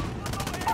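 A brief burst of video game gunfire in Call of Duty: Modern Warfare, a few quick pulsing automatic shots at moderate loudness with faint battle ambience underneath.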